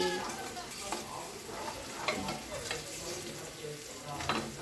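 Ingredients fry in a pan while a utensil stirs them, giving a steady close sizzle with soft scraping strokes throughout, with no talk over it.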